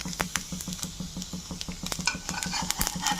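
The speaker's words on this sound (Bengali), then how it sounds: "দিয়ে দুদিকটা একটু ভালো করে ভেজে নেব" Patishapta pitha, a rolled filled crepe, fries on both sides in a pan with a steady sizzle and a quick, regular tapping and scraping of a spatula throughout, with no talking.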